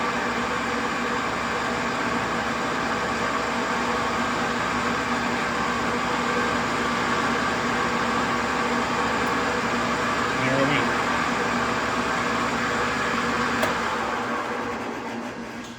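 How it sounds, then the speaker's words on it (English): An Ammco 5000 brake lathe turns and cuts a brake drum, giving a steady, even mechanical drone with a constant hum and whir that holds unchanged throughout, then fades slightly at the end. "The Ammco 5000 can actually cut in both directions."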